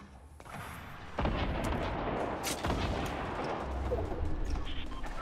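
Rocket explosions and heavy gunfire in Fortnite boom and crackle in a dense, continuous barrage, loud and close, with a sharp blast at the start and a rumbling low end throughout.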